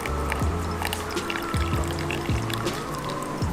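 Water pours into a mug in a steady, close trickle, with gurgles that rise in pitch as the mug fills.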